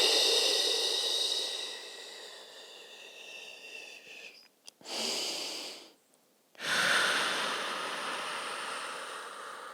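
A person doing a Pilates exercise breathes out in a long, airy, close exhale, pauses with a short catch of breath, then draws another long breath, with no talking.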